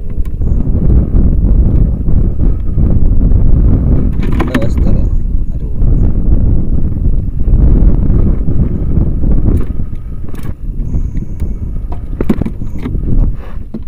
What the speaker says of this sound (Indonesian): cuaca udah mulai kurang bersahabat tuh anginnya udah mulai berangin anginnya tuh